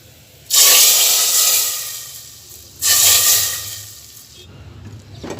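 Two loud bursts of hissing sizzle as hot oil with golden fried garlic is poured into cooked moong dal with spinach, each fading slowly, with a softer sizzle continuing near the end.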